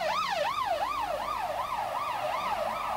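An ambulance siren wails at a shooting scene at a bookmakers in south Belfast, a steady up-and-down two-tone sweep repeating about every half second, loud and close with no talk over it.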